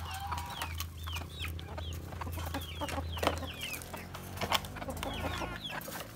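Native chickens cluck and call repeatedly at close range, their short squawks overlapping above a steady low hum.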